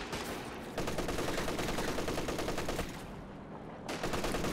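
Rapid machine-gun fire in Company of Heroes 2, a sustained rattling burst that pauses briefly and resumes, loud and dense over battlefield din, with no talking.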